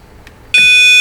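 A sharp electronic beep starts abruptly after a brief quiet moment and holds as a steady, loud, high-pitched tone: a circuit tester sounding on a car power window wire.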